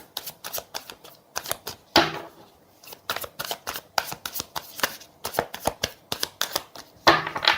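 Tarot cards shuffled by hand during a reading, a close, steady run of crisp riffling flicks and slaps with brief pauses, heard alone without talk.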